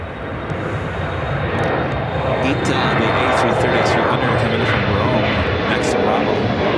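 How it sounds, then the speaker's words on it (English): An Airbus A330-200 airliner arriving from Rome at Chicago O'Hare, its engines a steady broadband roar held close and loud throughout, with faint voices mixed underneath. "The A330-200 coming from Rome."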